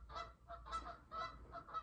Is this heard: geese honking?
yes